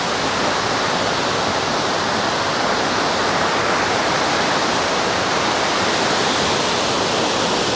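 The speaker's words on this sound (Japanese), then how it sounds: "滝になってるんで" A roaring waterfall in Yokoya gorge, Nagano, a loud, constant broadband rush of falling water heard close, steady and unbroken throughout, with no voices.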